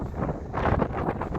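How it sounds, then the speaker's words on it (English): Strong wind buffets the microphone outdoors on One Tree Hill in Auckland, a steady loud rumbling gust throughout with no voices. "Again, very windy"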